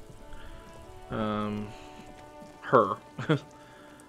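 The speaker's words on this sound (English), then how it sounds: "So it is still raining." Rain falls steadily in a video game as a soft, constant patter in the background, with a person talking over it in short bursts.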